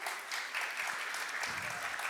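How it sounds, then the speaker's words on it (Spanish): Audience applause welcoming a doctor to a conference stage, a dense, even patter of many hands heard at a distance and fairly quiet throughout. "Le damos un fuerte aplauso"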